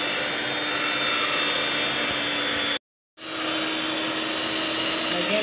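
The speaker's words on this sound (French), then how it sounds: "Je vais mixer les œufs ensemble avec le sucre beurre." An electric mixer whirs loudly and steadily, beating eggs with sugar and butter for cupcakes. It cuts off for a brief moment, then starts again; no voices are heard.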